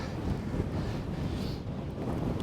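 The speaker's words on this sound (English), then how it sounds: "This is a stiff headwind, by the way." Stiff headwind buffets a drone's microphone in a steady, loud broadband roar with low rumbling gusts, continuous for a couple of seconds with no voices.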